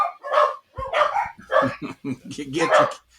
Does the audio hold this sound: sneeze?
no